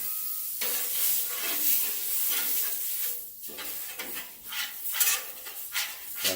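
Smash burgers sizzle loudly on a hot griddle with melted margarine, a close, bright hiss that swells and dips as a spatula scrapes and presses at intervals.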